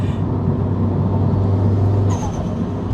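A turbocharged 465 bhp forged Subaru Impreza STI hatchback engine roars steadily at close range, with a whooshing, hissing rush rising near the end.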